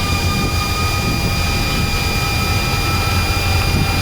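From inside an Airbus A330 cockpit, the jet engines roar at takeoff thrust as a loud, steady broadband rumble with sustained high whining tones.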